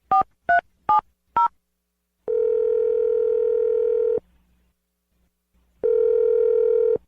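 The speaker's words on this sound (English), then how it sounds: "I'm going to dial the phone number." Four quick touch-tone dialing beeps, followed by two long, steady ringback tones separated by a pause of silence.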